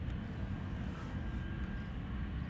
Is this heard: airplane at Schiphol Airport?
yes